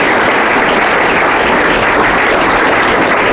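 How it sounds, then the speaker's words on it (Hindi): A school audience applauds at a 10th-grade farewell ceremony as a student is honoured for his marks, with dense, steady clapping from a crowd that stays loud and unbroken throughout. "जोरदार ताली एक बार सूरज कुमार के लिए।"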